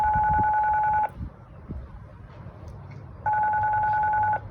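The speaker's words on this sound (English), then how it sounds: "now I'm ringing" An outgoing phone call rings back in two long tone bursts separated by a quiet gap, heard faintly over light background noise.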